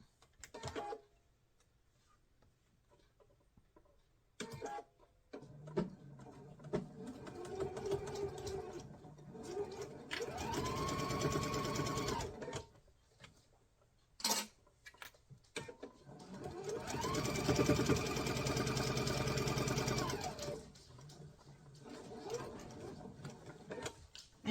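A sewing machine stitches a quilt block seam close by in two main runs of rapid, steady whirring, with shorter bursts and clicks of fabric handling between them.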